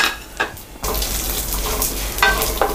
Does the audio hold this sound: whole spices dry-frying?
yes